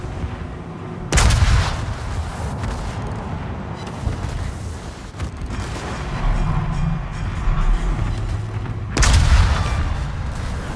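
Naval guns firing in a warship game: two heavy, booming salvos several seconds apart, each a loud deep blast over a continuous low rumble of battle.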